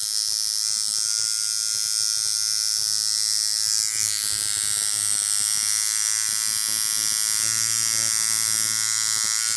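A coil tattoo machine sped up to a higher setting buzzes loudly and continuously up close, a dense electric whine with steady harmonics that rises slightly in pitch partway through.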